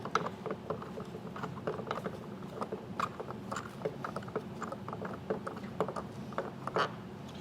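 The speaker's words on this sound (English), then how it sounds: "go ahead and take this bolt, and we're going to completely take this bolt out." A bolt being removed from a Rhino-Rack Sportz roof rack clamp on a 2023 GMC Sierra, with close, repeated metallic clicks and ratcheting turns in an irregular rhythm, heard alone.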